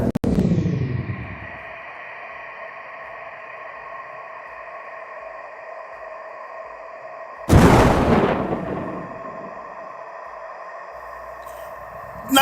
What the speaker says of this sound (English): The stun grenade fell on the goon and he fell out the window.